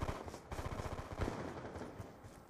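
Rapid automatic gunfire from Black Ops 2 Gun Game, a dense, continuous stream of close shots running through the whole stretch with no pauses.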